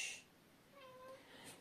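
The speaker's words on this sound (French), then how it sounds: "si vous entendez miauler, c'est mon chat" A domestic cat meows once, a short faint rising call standing alone in a quiet indoor room.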